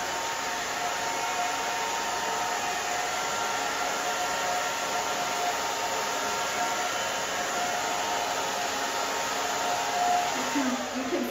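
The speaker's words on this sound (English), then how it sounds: "We're just drying her sides forward on each side." A hair dryer blowing steadily on a woman's short pixie haircut, a loud continuous airy whoosh that stays close and even throughout with no talking.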